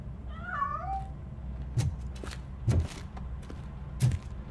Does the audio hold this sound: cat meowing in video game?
yes